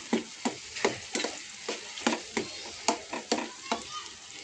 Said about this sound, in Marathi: हे सगळं चांगलं एकदम मस्त फ्राय तेल सुटेपर्यंत करायचं।